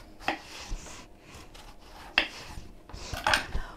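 A knife slices through eggplant on a board in a few separate crisp cuts, close and fairly quiet, with no talking.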